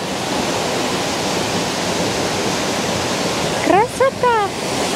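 Todtnau waterfall in southern Germany roars as a steady, loud broadband rush of falling water, while near the end a voice briefly exclaims over it.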